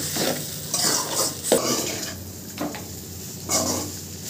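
Noodles are tossed and stirred in a hot pan, with repeated scraping strokes of a utensil against metal over a soft sizzle, near and clear, with no talking.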